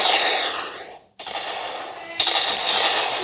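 Loud bursts of video game gunfire crackle close up in short, dense volleys, broken by a brief pause partway through.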